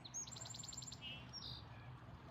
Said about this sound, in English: You hear that songbird, sparrow, and the waves.